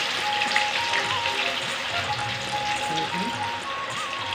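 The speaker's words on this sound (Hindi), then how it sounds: "अब इसको हम डालेंगे फ्राई होने के लिए तेल में।" Soya chaap fries in hot mustard oil with a steady, even crackling sizzle, close and continuous and free of speech.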